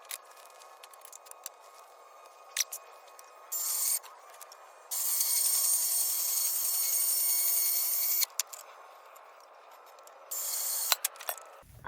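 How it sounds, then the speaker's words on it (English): A DeWalt portable bandsaw cuts through steel pipe, with bursts of high whining blade noise separated by clicks and handling rattles, the longest cut running steadily for several seconds, close and without talk. "I don't know of anything that cuts better than this DeWalt bandsaw."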